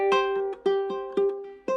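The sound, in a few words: ukulele playing a riff slower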